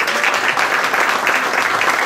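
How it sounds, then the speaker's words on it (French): Loud, close, continuous applause from guests at a restaurant awards evening, a steady rush of clapping throughout with no pauses. "on peut l'applaudir"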